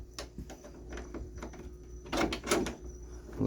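A pocket door in a 2019 Heartland Road Warrior RV slides along its track and latches, giving a soft rolling rumble followed by a couple of firmer clunks near the end.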